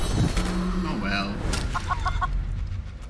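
A chicken clucking in the video game Divinity: Original Sin, a short burst of pecking clucks over steady low game ambience, with a voice speaking briefly at the start.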